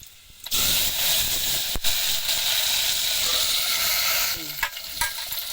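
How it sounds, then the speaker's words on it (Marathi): Garlic and cumin seeds crackle and sizzle in hot oil for a tempering over a wood-fired stove, a loud steady hiss that starts abruptly and runs on, with a few clinks of stirring near the end. "लसूण आहे फुडणीला लसूण टाकते आणि थोडे जिरे टाकते"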